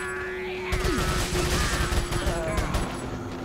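Rapid automatic bursts from a TMP machine pistol in Resident Evil 4, a fast chattering volley up close over a steady hum and game tones, lasting a couple of seconds.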